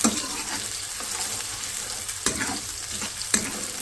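Chopped onions fry in a pan toward light brown for Pakistani achari chicken, giving a close, steady sizzle broken by a few sharp clicks of stirring.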